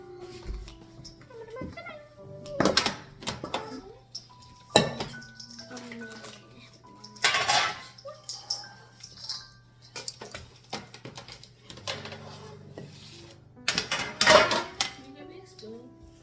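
Spoon stirring thick cookie dough in a bowl, with scraping and knocking clinks against the bowl in uneven bursts, under a steady low hum, with voices talking around it.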